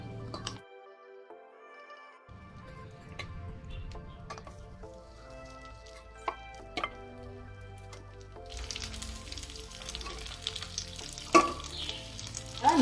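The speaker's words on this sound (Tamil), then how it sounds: "நண்டு எண்ணெயில் ஃப்ரை ஆகிற வரையும் வெயிட் பண்ணுவோம்." Marinated crab fries in hot oil: a soft, steady sizzle under a faint tonal hum, with occasional light clinks, swelling into a brighter, louder hiss toward the end.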